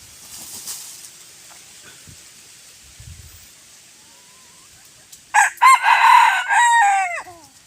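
A gamefowl rooster, brought along with a hen as a hunting lure, lets out a loud, close crow near the end after a quiet stretch of faint rustling and scattered clucks.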